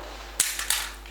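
A pistol shot fired during a theatre stage play, one sharp loud crack followed by a couple of quicker trailing snaps with a brief ringing decay, no voices over it.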